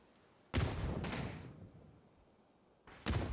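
Grenade blasts in a PUBG esports match: two loud, broadband explosions, the first with a lingering rumbling tail and a softer echo burst shortly after, the second hitting near the end, with no talk.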